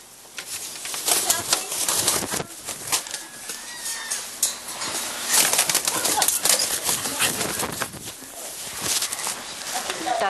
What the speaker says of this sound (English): That's an umbrella cockatoo.